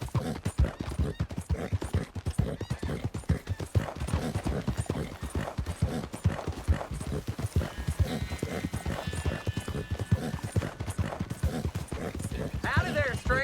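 Horse hooves clip-clop in a steady trotting rhythm in the game Red Dead Redemption 2, loud and close, with people talking over the hoofbeats and a brief whinny.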